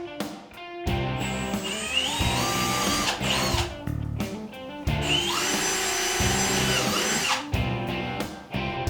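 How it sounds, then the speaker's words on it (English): A power drill bores holes into the rear of an Otter XT Pro X-Over snowmobile sled, its motor whining loudly in several bursts that rise and fall in pitch, with short pauses between runs. "locate the markings under the lip and drill just as we did in the front."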